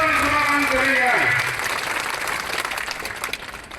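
A birthday celebration audience in Kalyandurg applauds Nara Lokesh: steady, loud crowd clapping that fills the clip and fades slightly toward the end, with tonal music or a voice sounding under it at the start.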